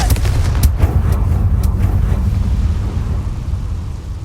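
A Confringo blasting curse goes off in Hogwarts Legacy: loud, sharp explosive bursts in quick succession, followed by a rumbling, crackling decay that fades over several seconds.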